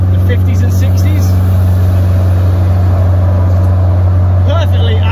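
A 1969 Renault 10's engine drones low and steady as it drives along, a constant loud hum with road noise throughout.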